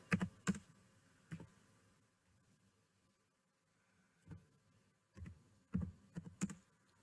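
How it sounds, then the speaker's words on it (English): Slow, deliberate keystrokes on a computer keyboard while entering a letter in a word processor: sparse clusters of sharp clicks with long quiet gaps, close and clear, no voices. "And now I'll type slowly, such as Dear Sir."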